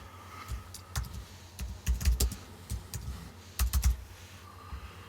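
Someone types on a computer keyboard in short bursts of quick, crisp key clicks, close and clear, pausing between clusters of keystrokes with no talking.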